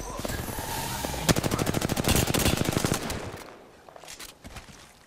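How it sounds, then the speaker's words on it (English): Rapid automatic gunfire from the battle royale game Apex Legends, a dense burst of shots over a couple of seconds, then sparser trailing shots as a character voice speaks under the action. "I am taking fire, friends."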